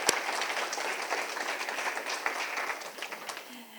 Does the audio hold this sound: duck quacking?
no